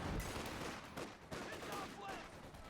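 Machine gun bursts in the real-time strategy game Company of Heroes 2, faint and distant rattling volleys under a caster's steady commentary.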